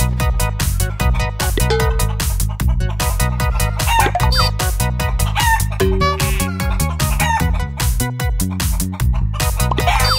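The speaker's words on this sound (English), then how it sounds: "Want to see the chicken?" Farm chickens cluck busily and loudly close by, a dense rhythmic chorus of short repeated calls with occasional longer crowing notes running throughout.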